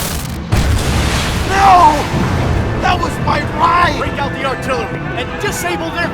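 Artillery blasts and booms burst out in a Batman video game, landing as heavy, fairly close impacts under a noisy mix of voices and game sounds.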